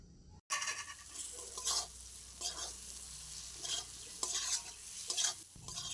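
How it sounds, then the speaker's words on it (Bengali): Potatoes being fried and stirred with spices in a pan, steady sizzling under rhythmic spoon scrapes, close and continuous. "এবার আমি আলুগুলো দিয়ে দেব"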